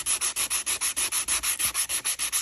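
Steady back-and-forth sanding strokes along the grain of a metal brake rotor, about six per second, loud and close with a rhythmic rasping hiss.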